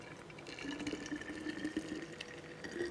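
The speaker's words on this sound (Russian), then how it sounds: "И я в горячую банку, в горячую бутылку наливаю божественный напиток." Hot pumpkin juice with dried apricots is poured into a hot glass bottle, a quiet, steady liquid trickle and gurgle close by.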